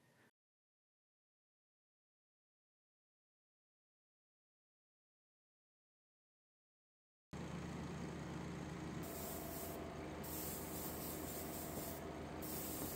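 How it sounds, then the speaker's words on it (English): Spray painting a wooden swimbait lure inside a paint booth: after a long silent stretch, a continuous airy spray hiss starts and holds steady at close range, with brief dips as the spray pauses. "I set up my paint booth and it's time to get to slinging some paint."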